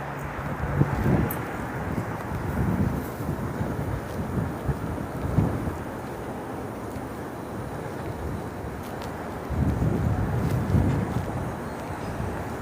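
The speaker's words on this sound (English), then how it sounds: "Guys, is the wind too loud?" Wind buffets a microphone hanging outside a jacket on a frozen downtown Toronto street, a steady low roar with stronger gusts near the start, middle and end, no voices.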